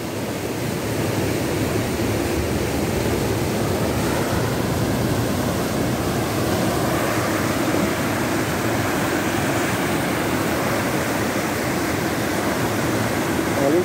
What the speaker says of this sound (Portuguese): Linda queda d'água aqui,